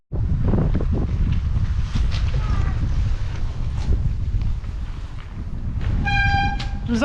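Strong headwind buffets the microphone of a rider cycling back into the wind, a loud continuous low rumble throughout, with a few brief tonal whistles or horn-like notes near the end.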